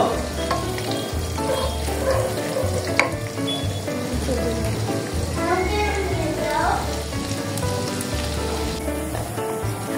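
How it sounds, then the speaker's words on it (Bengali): Garlic fries in a pan for a fish curry, a loud, dense, continuous sizzle with stirring scrapes up close, and some talking mixed in. "আমাদের গার্লিকটা ভাজা হয়ে গেছে।"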